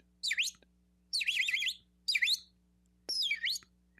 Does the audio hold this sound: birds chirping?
yes